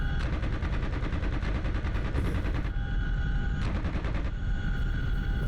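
Continuous machine-gun fire from a helicopter door gunner in the DCS World combat flight sim, loud and sustained with only brief pauses between long bursts, over a steady rotor and engine drone.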